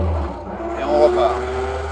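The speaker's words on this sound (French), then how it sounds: "On relance un petit peu les gaz, hop." A 1922 Rolland-Pilain type R touring car's engine picks up as the throttle is opened again after a shift into second gear, a steady mechanical drone that swells slightly midway, with someone talking over it.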